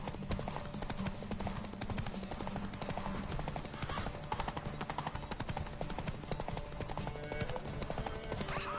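Hoofbeats of the horse Roach galloping in The Witcher 3, a rapid, continuous clip-clop rhythm at steady pace, loud and close, running throughout with game ambience beneath.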